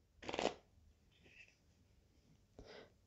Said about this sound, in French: Je vais faire, alors, une coupe pour voir, comme ça,